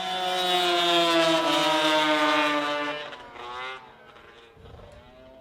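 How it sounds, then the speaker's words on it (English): Super Mod 340 snowmobiles race down a track at Beausejour, their engines a loud, high, buzzing whine that sweeps past close by, then fades with another sled further off. "Pro Mod 340, Super Mod 340s are flying down the racetrack."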